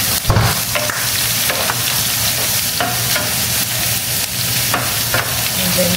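Onions frying in a pan, a loud continuous sizzle with occasional stirring scrapes and clicks running steadily throughout, no voices.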